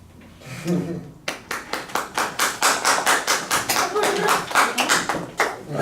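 Rhythmic clapping at a Torah portion (parasha) talk, a steady series of distinct claps carrying on for several seconds after a brief quiet moment, with faint voices underneath.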